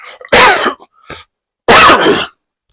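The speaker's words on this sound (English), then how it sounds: "I'm still, coughing a bit" Two loud, harsh coughing bursts from a person recovering from an illness, about a second apart, close to the listener, with a faint short throat noise between them.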